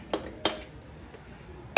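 A metal cooking pot set on a stove: two light clinks early on, a quiet pause, then a sharper clank at the very end, close and otherwise alone.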